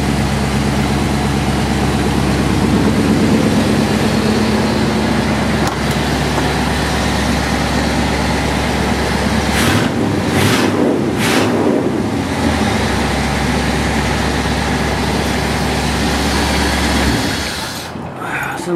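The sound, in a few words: old car engine idling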